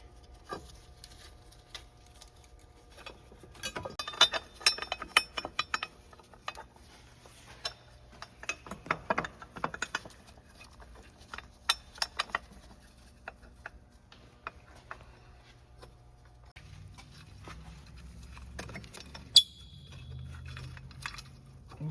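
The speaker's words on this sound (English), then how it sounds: "we're gonna hand start all of our bolts before we tighten any of them down" Small metallic ticks, clinks and taps of bolts being threaded by hand into the front transfer case of a 2009-2017 Chevy Traverse AWD, scattered and irregular, close by and fairly quiet, with no talking.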